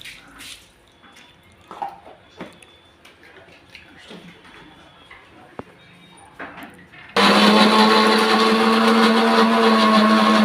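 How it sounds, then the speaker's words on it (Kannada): A kitchen mixer grinder blending roasted tomatoes with peanuts starts abruptly after several seconds of quiet handling noises, then runs loud and steady as a dense whirring roar until the end. "2 ಮಿಕ್ಸರ್ ಮಾಡ್ಕೊಂಬಿಡ್ರಿ."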